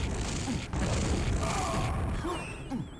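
Frag explosion in a 1on1 tournament video game match: a burst of booming, crashing blasts with sharp impacts over a busy, continuous bed of game noise.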